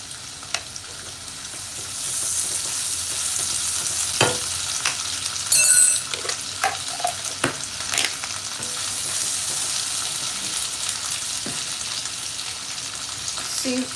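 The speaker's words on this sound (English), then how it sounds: "I'm going in with garlic and ginger paste." Garlic and ginger paste frying in a pan with onions and chicken for a broccoli and vegetable sauce, a steady close sizzle with occasional stirring scrapes and clicks of the utensil.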